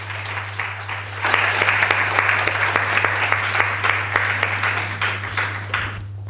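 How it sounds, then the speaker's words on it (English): A conference audience at a gender equality event applauds the Minister, clapping swelling after a second and holding steady for several seconds over a constant low electrical hum, with a faint voice near the end. "So another round of applause for her"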